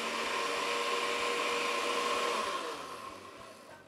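A blender whirs steadily as it blends wheat flour for traditional chicha, a loud continuous motor drone that eases off and grows quieter in the final second.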